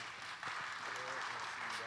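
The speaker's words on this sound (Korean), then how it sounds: "오늘 바쁘신 가운데도 우리 패널로 나와주시고 축하해주시고 좋은 말씀 나눠주신 세 분께 큰 박수 부탁드리겠습니다" Audience clapping for three panelists at a church community book launch and book talk, a steady wash of applause running throughout, with a voice speaking over it.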